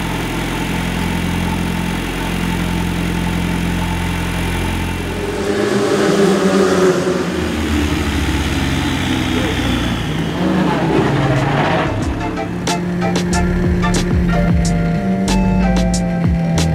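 Race car driving on the circuit at the GP Explorer event, engine humming steadily then rising and shifting in pitch as it accelerates, close and loud throughout with no talk.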